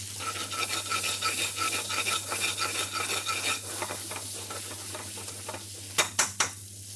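Peppers and onions are stirred in oil in a pan, with rhythmic scraping strokes over a light sizzle and a steady low hum, ending in a few sharp utensil knocks against the pan.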